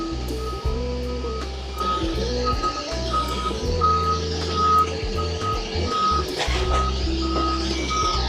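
An airport cargo loader lowering at a United Airlines widebody aircraft gives off a steady, loud series of reversing beeps over a low diesel rumble and machinery whine, close by, with no voices.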